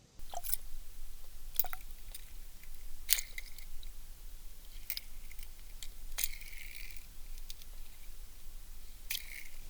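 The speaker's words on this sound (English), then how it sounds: "Here it is dropping into the water and on the bounce." A tiny double Colorado blade spinnerbait drops into water and bounces, heard underwater: scattered sharp ticks and clicks over a quiet, steady background, faint and close, with no talk.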